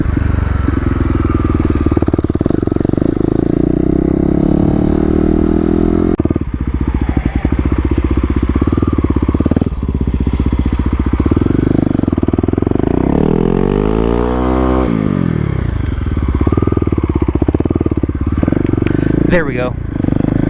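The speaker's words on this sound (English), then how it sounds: "Oh wait, I forgot to do my burnout." Kawasaki KDX dirt bike doing a burnout, its two-stroke engine revving hard and rising in pitch with sustained wheelspin close to the microphone; a rider speaks briefly over it.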